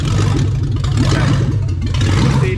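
A Lexus 1UZ-FE V8 runs on a standalone ECU at a rough, uneven idle, its loud, close low rumble wavering and sputtering with no voices over it.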